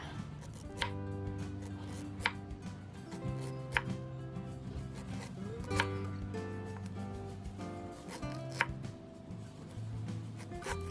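A knife thinly slices fresh ginger root, giving sparse, crisp cutting taps spaced a second or two apart beneath continuous background music.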